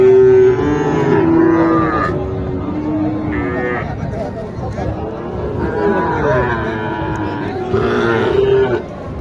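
Cattle at the Mataji cattle market in Mahadebpur, Naogaon district, Bangladesh, including Sahiwal heifers: repeated close, loud moos and lowing rise over a steady market murmur while someone talks throughout.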